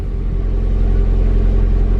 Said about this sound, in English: It does sound like it has a little exhaust leak.